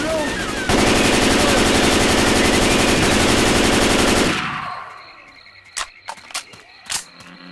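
Sustained loud automatic gunfire from Left 4 Dead 2 roars for about four seconds, then breaks into a few sharp separate shots while players talk over it.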